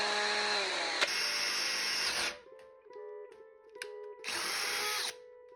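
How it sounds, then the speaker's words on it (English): Power drill with a 35/64 inch bit boring through a wooden chair: a loud, steady high whine for about two seconds, a brief lull with the motor winding down, then a second loud burst. "But to make sure it's tight, I'm going to use a 35/64 bit."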